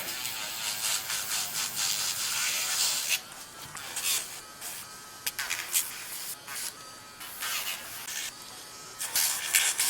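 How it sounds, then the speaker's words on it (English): A small file working an acrylic press-on nail, giving a quick, raspy scraping in short bursts and pauses, close and fairly quiet, with no talking. "I'm going to have to file that with a small file."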